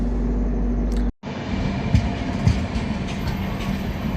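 A train rolls past at a small station on the Mumbai to Thalassery line: a steady loud rumble with rhythmic clatter of wagons, broken by a brief dropout near the start.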